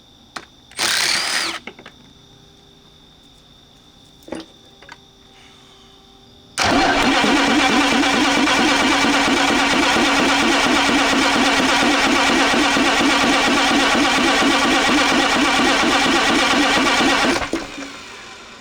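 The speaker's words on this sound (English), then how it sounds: "battery voltage is real low during cranking" An old high-mileage bus engine cranks on low battery voltage, a long loud continuous starter grind after a few brief clunks and knocks, running for about ten seconds before stopping abruptly.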